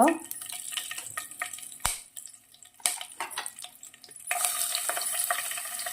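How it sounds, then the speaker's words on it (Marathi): Green chillies fry in hot oil with mustard seeds and asafoetida, a steady close sizzle with scraping stirs and sharp clanks from a utensil, the crackle swelling louder toward the end. "त्या मिरच्या पहिल्यांदाच भाजून घ्यायच्या आहेत"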